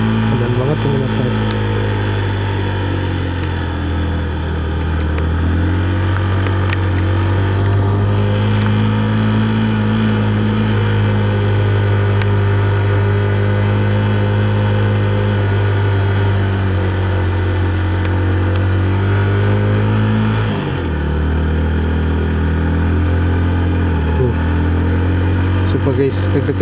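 A motorcycle labours up the steepest climb on Mount Lio in Brebes in the rain, its engine droning loud and steady at close range, with a brief dip and recovery near the end.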